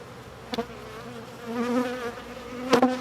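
Soft, steady buzzing of honey bees close by in a queen-rearing bee yard, with a few louder passes as individual bees fly near.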